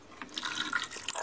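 Water pours and splashes down into a swimming pool, a bright, hissing, gurgling rush that grows louder within a second and then keeps on steadily, with no voices.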